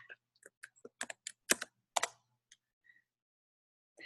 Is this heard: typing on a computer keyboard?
yes